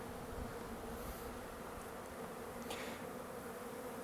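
Honey bees buzz steadily in a dense, continuous drone around a hive during package installation, a close and even hum with no talk.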